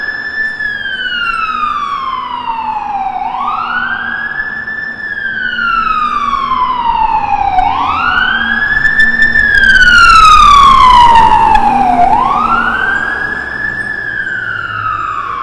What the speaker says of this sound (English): there seems to be a fire engine making its way along King